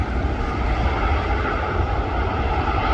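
Jet airliners, a Ryanair and an EasyJet, taxi out at Manchester Airport, a steady broadband engine roar that holds level throughout, fairly loud, with no talking.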